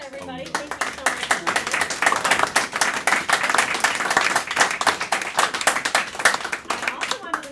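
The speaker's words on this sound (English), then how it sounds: "Let's give Jonas a big hand, everybody" A concert audience claps and applauds steadily for several seconds, dense rapid hand claps filling the room up close, with a voice speaking over the start.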